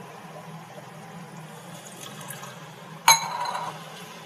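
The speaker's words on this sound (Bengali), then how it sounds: "এবার অল্প জল দিয়ে আরেকটু কষিয়ে নেব" Water is splashed into simmering egg curry masala in a pan, a single sudden pour after a quiet stretch of soft cooking sizzle, followed by a brief bubbling wash.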